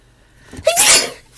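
A single loud, close sneeze with a brief sharp intake of breath before the burst.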